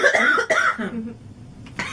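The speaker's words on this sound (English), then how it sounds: "That will definitely make you cough." A girl coughs two or three times in quick, harsh bursts, close and fairly loud, followed by a brief pause and a softer final rasp.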